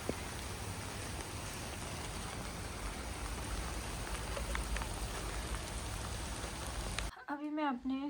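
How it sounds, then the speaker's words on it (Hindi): Steady, dense rain patters on a surface, a continuous hiss with scattered drips, ending abruptly as a voice begins speaking. "बारिश आ चुकी है।"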